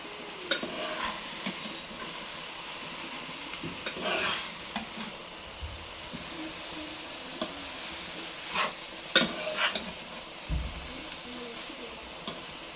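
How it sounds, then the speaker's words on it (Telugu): Vegetable noodles are stirred in a pan, giving a steady scraping and soft sizzling texture with occasional louder clatters of the utensil, close by and without talk. "మంచిగా కలిపేసుకోవాలి."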